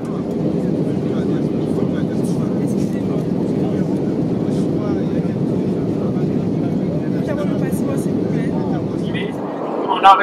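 A steady, loud jet-engine drone fills the cabin of an Airbus A320 airliner in flight on a delivery flight from Toulouse, a continuous low roar with faint voices underneath.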